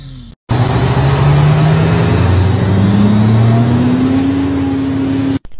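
A man imitates a car engine revving with his mouth, a loud continuous buzzing drone that climbs steadily in pitch with a thin whistling overtone, between two short breaks of silence.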